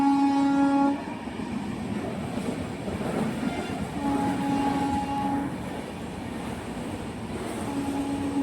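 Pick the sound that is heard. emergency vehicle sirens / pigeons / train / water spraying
train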